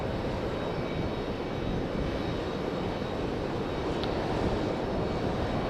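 FedEx Boeing 767 at Raleigh Durham International Airport, a broad continuous jet roar heard from a distance outdoors, steady throughout without talking.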